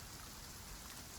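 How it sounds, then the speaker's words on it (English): Rain falls steadily on a greenhouse roof on an evening, a soft, even, continuous patter heard alone with no voices. "The rain continues on the roof."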